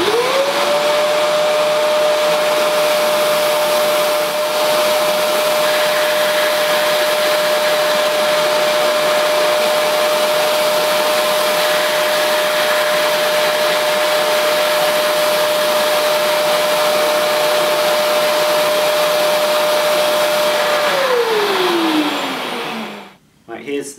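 A Vax Dual V Advance carpet washer runs with a steady, loud motor whine that holds for about twenty seconds before spinning down as it is switched off.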